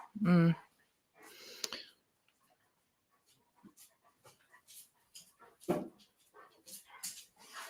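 A pet dog whines and yelps in short, loud bursts indoors, then gives quieter scattered whimpers and pants between pauses, with a person speaking faintly nearby.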